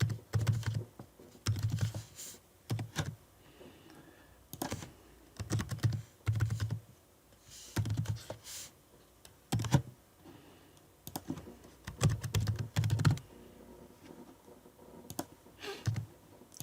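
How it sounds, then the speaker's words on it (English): Typing on a computer keyboard during data entry in a C# and SQL Server school registration program, quiet irregular bursts of key clicks separated by short pauses, alone with no talking. "Let's type all the data needed in here."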